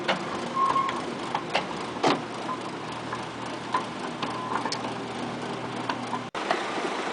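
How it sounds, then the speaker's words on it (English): Barn cleaner paddles dragging manure up the chute on a family dairy farm make a steady run of mechanical clicks and clanks in an even ticking rhythm, close and continuous throughout. "it is dragged along by the paddles up the barn cleaner chute"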